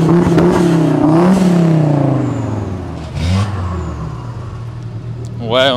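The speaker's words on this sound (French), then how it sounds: "Alors il y a la Porsche qui chauffe à côté, vous nous en voudrez pas." A Porsche 991 GT3 warming up nearby makes a rising and falling engine rev, with the loudest rev at the end, and people talk over it throughout.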